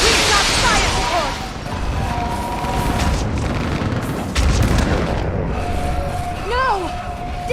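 In the Mass Effect video game, heavy gunfire and booming artillery support roar in a dense, loud, continuous battle din, with shouted voices and whistling projectiles over the top.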